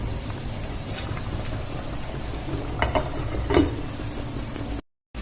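Pomfret fish cooking in a pan for a curry, a steady close-up sizzle and bubbling of oil with a few soft stirring clinks, then a brief cut to silence near the end.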